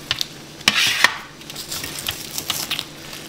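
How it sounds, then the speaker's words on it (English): Crisp, crackly tearing of crispy skin and meat as a leg is ripped off a Cajun fried turkey, with a few sharp snaps and clicks over a quiet kitchen background. "Alright, let's rip this leg off."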